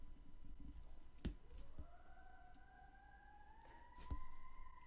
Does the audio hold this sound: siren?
yes